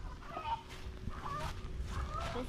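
Chickens cluck softly in short, repeated bursts, fairly close by, over a faint outdoor background.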